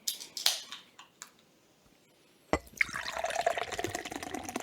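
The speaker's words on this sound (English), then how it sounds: "You just 180'd your can into your glass." A drink is poured from a can into a glass: a few faint clicks and taps first, then a sharp start and a steady fizzing, gurgling stream, close and moderately quiet, with no talking.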